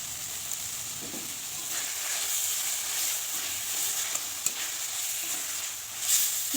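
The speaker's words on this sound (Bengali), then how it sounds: "আরও কিছুক্ষণ নেড়ে চেড়ে নিয়ে 1 চামচ আমি চিনি দিয়ে দিলাম।" Taro leaves (kochu shak) cook in a pan with a steady close sizzle, while a utensil stirs through them in soft, intermittent scrapes; no voices.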